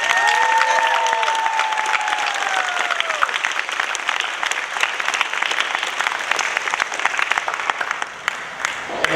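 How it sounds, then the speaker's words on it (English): Sustained crowd applause at a public charter school graduation ceremony, loud and continuous across the whole stretch, with a brief high tonal sound near the start. "let me get a clap for Romeo Garcia."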